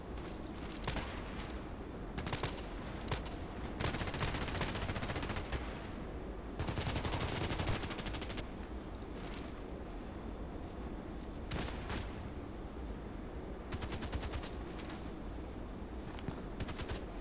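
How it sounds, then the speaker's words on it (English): Gunfire in a video game comes in repeated automatic bursts of varying length, some long and sustained, with short pauses between them. The firing is fairly faint throughout. "Why are you shooting?"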